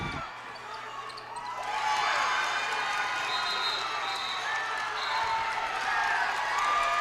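Lake Lehman fans cheering loudly at an away girls' basketball game against Holy Redeemer, a swelling crowd roar with whistles and shouts that rises after a quieter start, under an announcer's voice.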